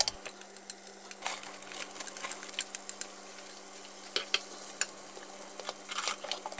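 Rice (muchere) and peas fry in butter in a frying pan, giving a soft, faint crackle with scattered sharp pops and light scraping, with no talking.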